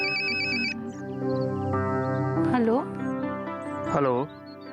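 Phone ringtone ringing indoors in a Hindi comedy series, a loud melodic electronic tune that plays continuously with bright repeating notes, while voices speak over it.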